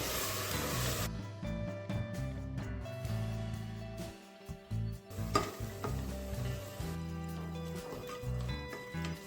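Ground masala and ingredients for dill leaves pulao fry and get stirred in a pan, a soft sizzle beneath faint clinks and scrapes of the spoon, fairly quiet and close, with some low background tones and no clear talk.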